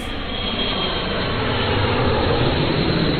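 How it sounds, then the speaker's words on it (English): A big, noisy airplane roars steadily overhead, a loud continuous broadband engine rumble that holds constant throughout with no voices. "he jumped into his noisy big airplane and quickly flew to Lord Shiva's house."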